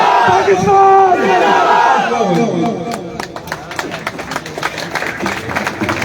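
A crowd at an election rally chants in loud unison, then breaks into scattered shouts and clapping, with voices overlapping near and far.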